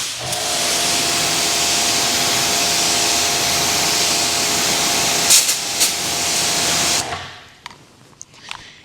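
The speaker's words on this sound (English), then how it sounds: "let's spray some water on here and see what she looks like" Water sprayed from a sprayer onto a car's ceramic-coated paint, a steady broadband hiss lasting about seven seconds before cutting off, followed by a few faint drips and taps.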